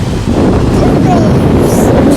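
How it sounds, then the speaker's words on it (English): Ocean waves break on a beach, a loud continuous rushing wash heavily mixed with wind buffeting the microphone, close and steady throughout. "See, we got 2 waves."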